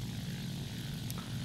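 Steady, loud propeller drone of a Ki-61 Japanese fighter in War Thunder, a continuous low engine hum with airflow noise and a brief faint click near the end.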